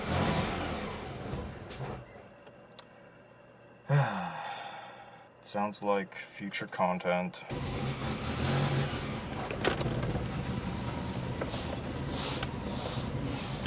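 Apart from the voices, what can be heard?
1990 Saab 900 car engine running while driving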